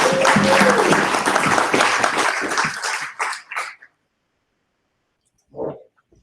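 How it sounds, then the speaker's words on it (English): A dense burst of audience applause greets presenters at a 1 Million Cups pitch event in Provo, loud and sustained for about three seconds before tapering into a few scattered claps and falling silent. "Let's welcome them with a round of applause"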